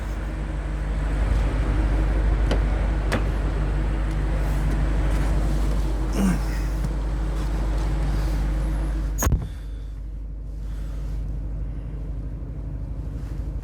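A BMW M5 hybrid drives on the Rustavi racetrack, giving a steady, close roar of engine and road noise with wind rushing over it. A sharp knock near the end is followed by quieter running.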